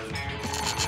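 The Crime Detector Spotlight 3000 alarm from the Bernd das Brot video game rings in a short, steady, bell-like burst, fairly quiet and alone.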